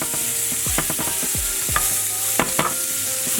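Butter and olive oil are stirred in a hot pan with a steady, bright sizzle, punctuated by soft scraping strokes and a few clicks of a utensil, close and continuous, with no voices.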